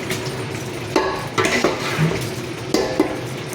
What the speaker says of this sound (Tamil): நம்ம ஏற்கனவே கொஞ்சம் டொமேட்டோ வந்து அரைச்சி வச்சுருக்கிறோம். இது நம்ம வந்து ஒரு 5 கரண்டி ஊற்ற போகிறோம்.